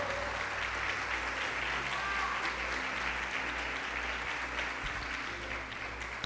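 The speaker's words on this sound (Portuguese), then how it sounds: "aplauda o Senhor" A church congregation applauds during a Wednesday worship service, a continuous even clapping at moderate distance over a low steady hum from the room.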